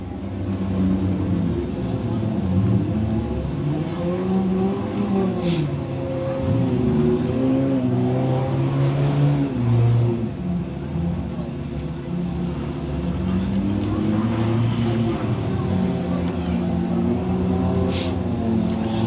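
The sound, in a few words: race cars lapping in an enduro race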